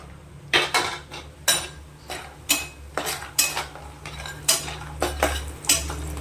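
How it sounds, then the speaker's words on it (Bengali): Bori, small lentil dumplings, frying in hot oil: a steady low hiss underlies repeated sharp clinks and scrapes of a spatula against the pan, coming in bursts of roughly one to two per second, close and moderately loud. "এখানে আছে বড়িগুলো আমি ভেজে নেব।"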